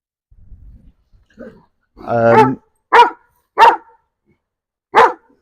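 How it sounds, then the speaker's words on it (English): A dog whimpers softly, then lets out a long bark followed by three sharp, spaced barks, close and clear against silence. "You'll have to excuse the dog. He's trying to get the other dogs to play."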